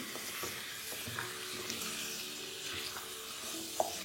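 Chicken stew with coriander powder is mixed in a pan over the heat, a soft steady sizzle running throughout with a few faint scrapes of the spoon and no voices.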